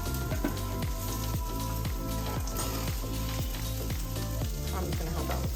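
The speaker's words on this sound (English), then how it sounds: "while our salmon burgers are sauteing" Wild sockeye salmon burgers sauté in a pan with a steady, even sizzle throughout, beneath a faint rhythmic tonal backdrop.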